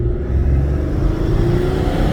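A 1999 Ford Taurus LX with the 3.0 Vulcan engine runs at a steady, even idle. The low drone is close and continuous, with no voices over it.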